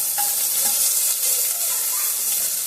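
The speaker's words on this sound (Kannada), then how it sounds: "ಈರುಳ್ಳಿ ಎಲ್ಲ ಚೆನ್ನಾಗಿ ಫ್ರೈ ಆಗಬೇಕು" Onions fry in hot oil with whole spices in a pressure cooker while chicken biryani is being made, giving a dense, close, continuous sizzle with faint stirring scrapes and no voices.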